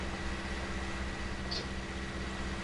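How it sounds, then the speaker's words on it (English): A small Valtra tractor engine idles steadily on a farm, its exhaust giving a low, continuous rumble with a faint pulsing rhythm, close and constant throughout with no talking. "I'll let you go deaf listening to the exhaust for a while."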